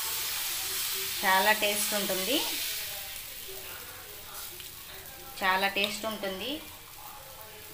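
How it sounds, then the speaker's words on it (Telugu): Dosa batter sizzling on a hot pan, a soft, steady hiss in the background while someone talks in two short bursts over it. "ఇంకో దోశ వేస్తున్నానండి"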